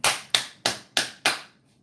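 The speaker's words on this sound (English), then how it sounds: "Give him a round of applause" Five sharp, evenly spaced bursts of clapping, each fading quickly, close and fairly loud with no voices.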